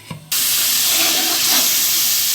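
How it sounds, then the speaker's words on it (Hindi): Potato and meat korma frying in a covered pan over raised heat, a sudden loud steady sizzling hiss that begins after a brief clatter and continues close up without voices. "इसके लिए हम थोड़ी सी आंच तेज़ कर रहे हैं। जब तक ये फ्राई होता है हम इसको कवर कर देते हैं।"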